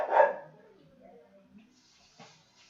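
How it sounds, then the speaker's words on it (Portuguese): A dog barks once, fairly loud and close, at the very start, followed by quieter indoor rustling and a door-like thud. "Só fechar a porta aqui que o cachorro está latindo."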